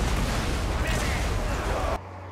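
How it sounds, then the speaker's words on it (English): Artillery fire in the Total War: Warhammer 3 strategy game: a dense, continuous roar of blasts and rumbling that holds steady for about two seconds, then cuts off abruptly to a quieter low hum. "As long as I have artillery and they're able to do this."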